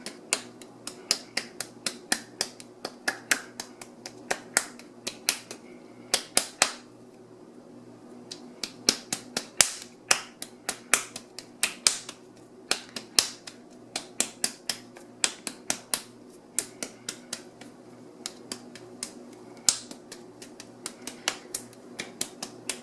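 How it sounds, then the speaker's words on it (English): Hands patting a lump of wedged clay into a ball, a long series of crisp slapping pats in an irregular rhythm, close and clear with brief pauses between bursts. "we have our wedged piece of clay here and we need to pat that into a ball"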